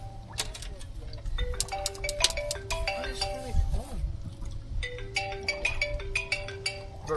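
A phone ringtone plays as an electronic melody of repeated bright tones, moderately loud, over a low rumble and brief talk, heard during live coverage of a bass fishing tournament at Santee Cooper Lakes.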